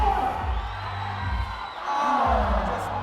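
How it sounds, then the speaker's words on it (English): Loud crowd at a climbing competition cheering and whooping steadily throughout, swelling again near the end with shouts rising over the roar. "The crowd is getting loud."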